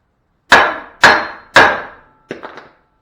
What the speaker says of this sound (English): just get right here on the edge of this spindle and just give it just ever so slight little tap